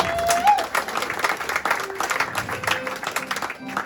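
An audience at a live music show applauds the band, with a rattly spread of claps, some cheers and crowd voices mixed in at moderate loudness throughout.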